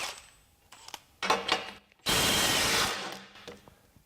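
A Milwaukee M12 Stubby impact wrench with a 6.0 battery, tested at 200 foot-pounds, gives a few short clicks and brief bursts, then one loud close hammering run of about a second before quieter handling sounds.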